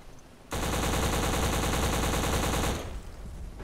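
Rapid automatic gunfire from the video game Black erupts suddenly and holds as one loud, continuous rattling burst for a couple of seconds before cutting off into quieter background.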